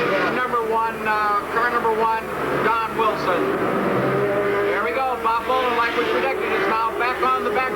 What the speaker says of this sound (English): Oh, Bill, they're getting ready to come up on some of these slower cars now.